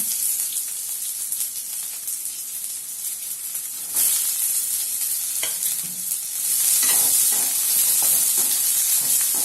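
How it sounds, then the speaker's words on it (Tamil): Mustard seeds splutter in hot oil, sizzling and crackling steadily, growing louder partway through, with scattered sharp pops and no talking. "கடுகு பொரிஞ்சிட்டு இருக்கு"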